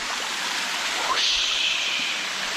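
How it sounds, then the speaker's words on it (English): Water rushes steadily at the top of a waterfall at Hell's Hollow, a constant hissing flow with a brief brighter splash midway, heard close and alone. "Being at the top of a waterfall."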